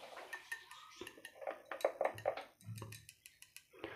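Eggs being beaten in a bowl for an oat-flour omelette: quick, irregular clinks and taps of utensil against the bowl, close and clear, with no talk.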